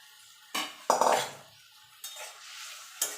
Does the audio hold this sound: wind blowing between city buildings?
no